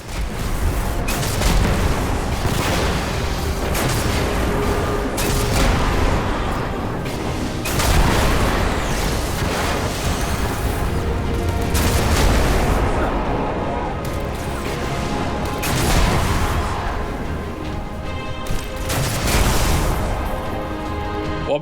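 Cannon fire in the Destiny: Rise of Iron campaign, with repeated heavy booming blasts landing every couple of seconds over a constant din of battle, and voices talking throughout.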